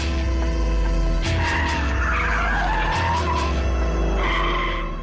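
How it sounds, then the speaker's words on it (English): A BMW M5 set to full track mode spins its rear tires into smoke, the screeching squeal rising and falling in long loud bursts over a steady, close engine roar. "With the settings in full track mode, you can smoke all day long."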